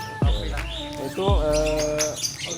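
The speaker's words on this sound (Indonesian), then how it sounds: "Ini perkutut lokal." A local perkutut (zebra dove) at a bird seller's stall gives close, clear calls with swooping, falling notes, repeated a few times with short gaps, and other chirps sound in the background.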